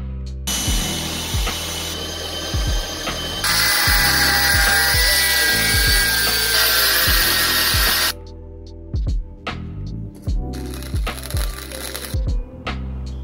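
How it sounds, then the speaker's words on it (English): A power drill bores a hole into the end of a metal meat shaft for a homemade gyros rotisserie built from a toaster and microwave, a loud, steady grinding whine with pitch shifts and short pauses as the bit bites, no talking. "we're going to drill a hole of this radius into the end"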